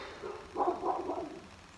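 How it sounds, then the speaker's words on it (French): A small dog barks and yips indoors during a makeup session, a short burst of several yaps in quick succession at moderate volume. "Ah, elle est insupportable à aboyer."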